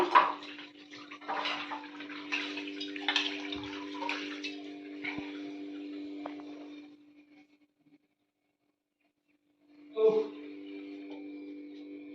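Water is poured onto plant soil in a pot, a splashing trickle that runs for several seconds, cuts off into silence, then returns in a brief second pour.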